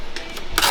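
A Dymo 4XL label printer prints a USPS shipping label, giving a close, whirring mechanical feed in short pulses that swells into a louder continuous rush as the label is pushed out.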